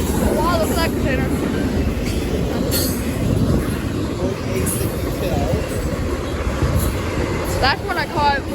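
A container freight train rolls past at Fullerton with a loud, steady rumble of wagons and wheels, high squeals cutting in now and then, and voices faintly under the noise.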